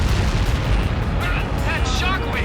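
A missile blast's shockwave in the Ace Combat 7 flight game, heard as a heavy, sustained low roar and rumble that fills the whole moment, with faint tonal chirps riding over it.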